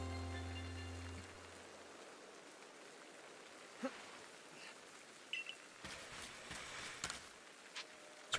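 Rain falls in Pokémon Legends: Arceus as a faint, steady patter and hiss, with a few soft scattered knocks and thumps near the end.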